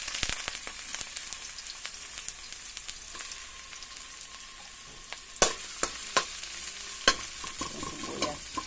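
Garlic and onion sauté in a hot pan for lomi, crackling steadily as sharp scraping and clacking stirs from a utensil strike the pan, louder in the second half, with no talk.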